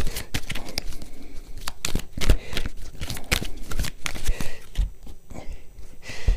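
Tarot cards being shuffled and drawn by hand: quick papery flicks and slaps in an irregular, busy rhythm, close and fairly loud.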